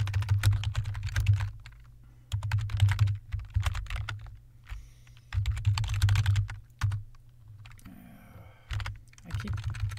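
Steady typing on a computer keyboard comes in dense bursts of clicks, broken by short pauses, with a low hum running underneath.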